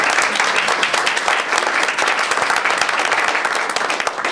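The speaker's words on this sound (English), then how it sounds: "Can we give them another round of applause?" Crowd at a school board meeting clapping for student singers, dense and continuous applause of many hands at steady volume throughout.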